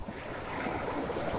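Sea waves breaking along the shore below a steep cliff, a steady loud wash of surf mixed with blustery wind buffeting the microphone.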